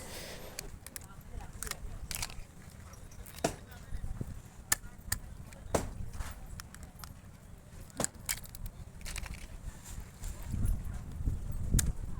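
Cleaned crabs are chopped on a cutting surface at Kuakata, giving irregular sharp knocks and cracks over a busy background of low voices and ambient noise.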